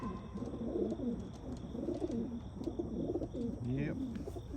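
Racing pigeons coo repeatedly in soft, rolling phrases, close by, with faint high chirps and a steady background hum.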